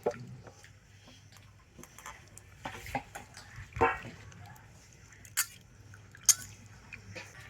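Jackfruit seeds being rinsed in a bowl of water give faint scattered splashes, drips and knocks against a quiet background, with a few sharper clinks spaced irregularly.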